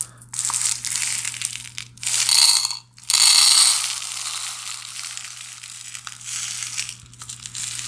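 About 15 oz of small .999 silver pieces poured and dumped into a container, a dense clattering, crunching rush of metal bits with louder bursts near two and three seconds, close and alone without talk.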